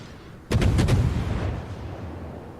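Naval cannon fire in the World of Warships game: a sudden heavy salvo of rapid booming shots that rolls into a long, fading rumble, loud and with no talk over it.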